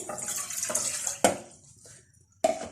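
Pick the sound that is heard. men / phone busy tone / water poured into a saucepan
water poured into a saucepan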